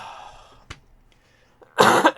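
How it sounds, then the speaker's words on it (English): A single person coughs and clears their throat close to the mic, with a short throaty burst early on and a harsher, louder cough near the end, no talk. "I do apologize for coughing."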